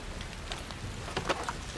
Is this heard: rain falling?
yes